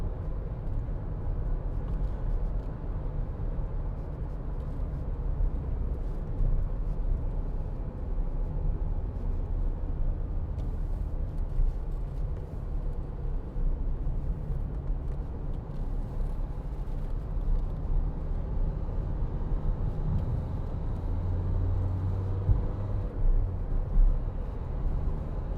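2016 Dacia Duster 1.5 dCi Laureate cruising at a steady speed, heard as a constant low cabin rumble of engine and road noise, even and unbroken throughout with no talking.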